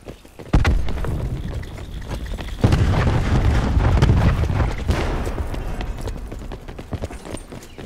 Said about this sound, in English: Cluster grenade going out.